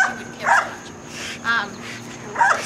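A reactive dog barks three times at roughly one-second intervals, sharp and fairly close, with quiet background noise between barks.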